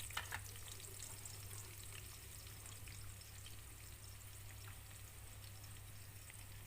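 Chopped onions going into a cup of hot oil for Lahori chicken chickpea curry, a soft steady sizzle and fry that holds evenly throughout with a low hum underneath and no talking.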